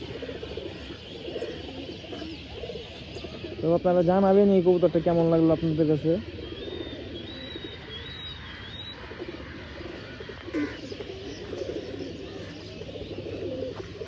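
Pigeons coo in a loft housing old-line Sap Chila and Giribaz pigeons, a short burst of layered cooing rising above steady background chatter and bird noise while someone talks throughout.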